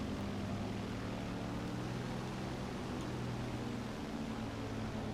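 Steady, even droning of an aircraft engine and propeller as the throttle rises ahead of a landing in the War Thunder naval combat game, constant and fairly faint throughout.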